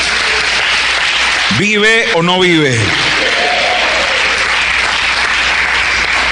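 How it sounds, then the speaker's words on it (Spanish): A church congregation applauds during a Spanish-language Holy Week service, a dense wash of clapping that continues steadily while a voice calls out briefly over it. "Un aplauso al Señor."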